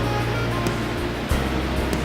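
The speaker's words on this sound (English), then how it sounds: "here you see the actual water coming into the trough as it comes through this screen" Wastewater at a treatment plant pouring through a screen into a trough, a loud, steady rushing wash of water with a low rumble and no voices.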